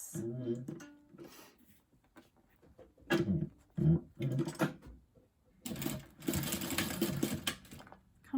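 A sewing machine stitches a seam through fabric scraps for a sunglasses case in several short, fast, whirring bursts. Quiet pauses separate the bursts, and the last run is the longest.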